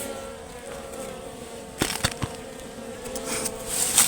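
Honey bees buzz around a wild hive during a first-time honey harvest in a coffee plantation, a steady close insect drone with a few brief louder swells from bees flying near, no talking.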